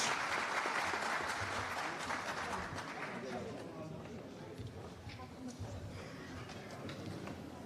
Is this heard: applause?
yes